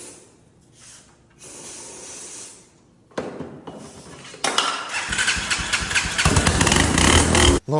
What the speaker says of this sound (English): That Primo exhaust right there making it sound so good.